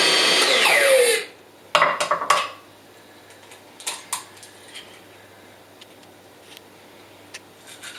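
Food processor with a chopping blade whizzing 200 grams of flour: a loud, dense whirring burst for about a second, then a few sharp clattering knocks and faint rattles before it falls quiet.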